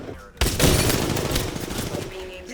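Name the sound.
gunfire in the video game Apex Legends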